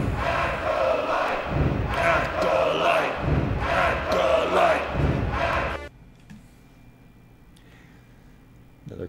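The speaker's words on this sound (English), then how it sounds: "Check out this crowd. They're on their feet." A wrestling video game crowd roars and cheers loudly for about six seconds, a dense wall of voices, then cuts off sharply to a quiet background hum.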